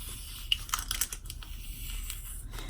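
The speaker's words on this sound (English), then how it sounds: "I'm gonna get the rest of this tape off." Tape peels off clear vinyl in short crinkly, tearing bursts, a few quick snaps and rustles close up and fairly faint over low room hum.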